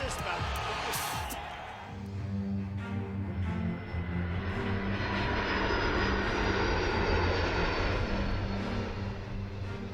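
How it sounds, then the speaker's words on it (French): Donald Trump's Boeing 757 jet, engines roaring in a loud sustained rumble with a rising whine near the start, while a voice talks over it. "Le Boeing 757 de Trump est tout aussi puissant que l'Air Force One du président, et encore plus luxueux"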